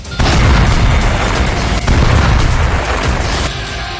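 A massive explosion from an Israeli strike on Hezbollah targets roars loud and sustained, a deep rumbling boom with crackling debris that slowly eases off toward the end.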